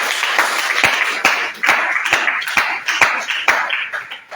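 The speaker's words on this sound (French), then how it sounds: "Acclamons le Seigneur aussi." A church congregation applauding the Lord fills the space with loud, dense clapping from many hands, with sharp, regular accented beats running through the continuous applause.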